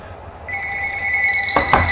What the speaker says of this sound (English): Oh, goddamn phone. I'm not going to answer it.